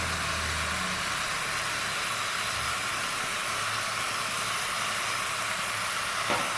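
Meat sizzling in a pan with golden fried garlic pieces, a steady, bright frying hiss that holds at an even level throughout, close and continuous, with no talking.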